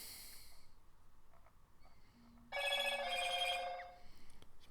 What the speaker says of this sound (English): My phone going off.